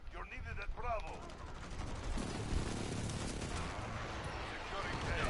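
Call of Duty Modern Warfare battle noise: rapid gunfire and heavy airstrike blasts rumble continuously, loud and close, with some voice chatter at the start.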